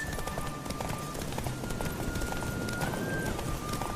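Steady, rapid hoofbeats of a galloping horse in the video game The Witcher 3: Wild Hunt, close and continuous, with a faint high tone running underneath.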